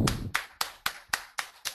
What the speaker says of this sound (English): Give a big round of applause for Sridharan.